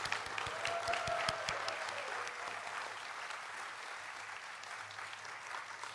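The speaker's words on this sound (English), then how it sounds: "Let's give them a round of applause." Audience applause fills a gala dinner hall, steady and moderately distant, with a few sharper claps near the start before settling into an even, sustained wash of clapping that continues to the end.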